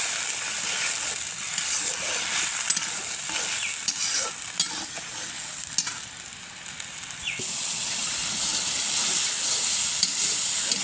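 Chopped tomatoes sizzling in hot oil for a tilapia fish curry, a continuous hissing fry with intermittent scraping stirs throughout, close and fairly loud with no speech.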